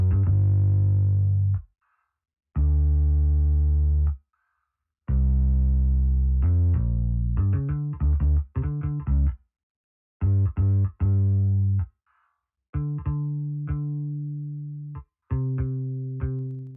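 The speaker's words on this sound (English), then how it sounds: "So that's what it sounds like, the bass line." A deep synth bass line plays alone in short sustained notes with gaps of silence between phrases, steady and fairly loud.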